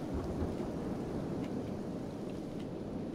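Acid rain pours steadily in Kenshi, a dense continuous hiss with low rumbling thunder underneath, unbroken throughout.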